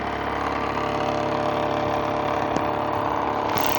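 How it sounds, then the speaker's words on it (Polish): A BLHF-RM synchronous motor drives a propeller, a steady droning hum with a layered tonal whine and rushing airflow, constant and close, with a couple of faint clicks. "ale motor ładnie dmucha poprzez śmigło"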